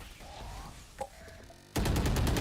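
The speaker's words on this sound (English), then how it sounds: "She's got a nice shot onto Laurie" A burst of rapid gunfire from the Valorant game breaks in loudly near the end, after a quieter stretch holding a single faint click.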